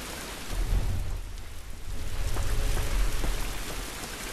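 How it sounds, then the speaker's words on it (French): Steady rain falls in the video game The Last of Us Remastered, a dense broadband hiss with low rumbling underneath and scattered drop ticks, fairly loud and continuous with no talking. "Cette pluie ne va pas nous aider."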